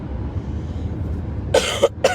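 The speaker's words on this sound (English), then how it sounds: "I got a cough because I was so stressed out with everything happening" Three short, sharp coughs near the end, close to the listener, over a steady low background hum.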